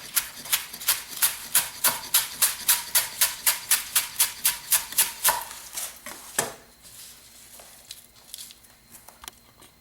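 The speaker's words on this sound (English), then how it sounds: "I'm just going to take these leaves and give them a rough chop" A knife chops ginkgo leaves on a cutting board in a steady run of about twenty sharp, even knocks, close and clear, then a few scattered taps and faint handling noise as the chopping stops.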